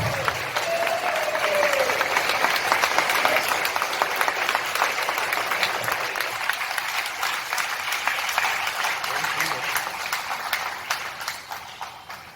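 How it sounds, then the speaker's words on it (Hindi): An audience at an IPTA Raipur theatre production applauds to welcome play director Minhaj Asad, a dense, sustained wash of clapping that lasts the whole stretch, with a brief voice near the start. "तालियों से स्वागत करें मिनहाज असद।"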